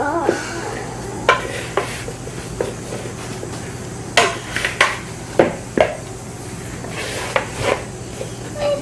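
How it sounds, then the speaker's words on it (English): Apple crisp mixture is stirred in a bowl with a utensil, giving scattered scraping and clinking knocks at an uneven pace. A low steady hum sits underneath. "Do you think it needs another stir?"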